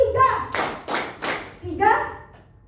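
A class of children claps in unison during a teacher-led clapping routine, three sharp group claps in a steady rhythm between short stretches of chanting voices.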